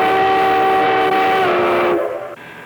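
Durango-Silverton railroad steam locomotive 476 sounding a loud, sustained chime-like whistle with layered tones over train rumble, cutting off abruptly then fading.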